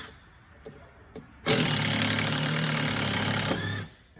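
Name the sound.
power driver removing self-tapping hex screws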